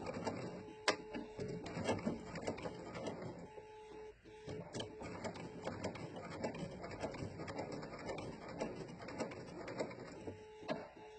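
A sewing machine stitches a fabric bowtie, running in short bursts back and forth to backstitch, a faint rapid mechanical patter in a quiet room with no talking.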